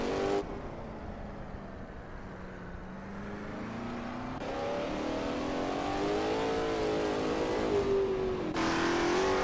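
Lola T70 MkII Spyder race car engine in a racing game at Brands Hatch, a steady loud drone with rising and falling revs through a bend, gear changes audible, no talk over it.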